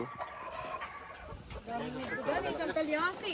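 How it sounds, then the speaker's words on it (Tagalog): Chickens at a farm pond cluck and chatter softly and fairly close by, with people talking over them. "nagpapalutlutan na yung mga manok"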